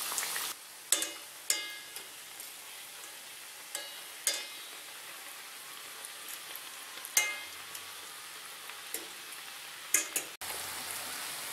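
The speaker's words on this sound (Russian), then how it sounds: "Вот жарятся у меня последние вербуны." Steady close-up sizzle of vergun dough fritters frying in hot oil, with occasional sharp pops and crackles over a continuous bubbling hiss.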